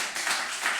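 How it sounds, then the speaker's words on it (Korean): A brief burst of clapping from a church congregation during a Sunday morning service, a quick cluster of hand claps at close range lasting under a second, with no talking over it. "박수."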